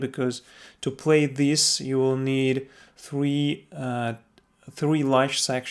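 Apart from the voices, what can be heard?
No distinct noise like a dog, phone or traffic.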